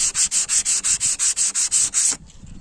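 Wooden furniture is sanded by hand to remove pencil marks: about eleven quick, even back-and-forth strokes rasp close and loud, then stop abruptly, leaving a faint background.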